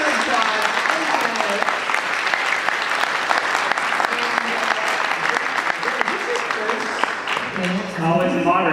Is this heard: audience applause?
yes